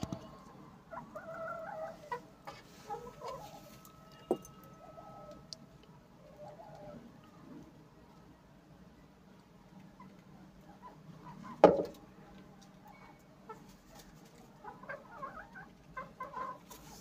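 A hen clucks repeatedly after laying an egg in a cage, uneven bursts fairly close, with soft background noise and one sharp knock partway through.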